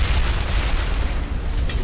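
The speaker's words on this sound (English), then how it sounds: "And there's the explosion." A deep, booming explosion in the Mass Effect video game rumbles steadily for about two seconds, a dense, loud low roar with no voices over it.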